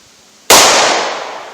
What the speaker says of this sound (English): let's run that Winchester Super X classic jacketed hollow point plus P through the chronograph